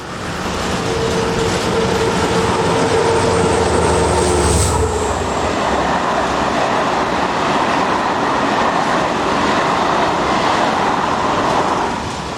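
Diesel locomotive 72052 hauls a Tours to Lyon passenger train past, a loud, sustained rumble and rushing roar with rolling wheel noise, swelling midway and holding steady to the end.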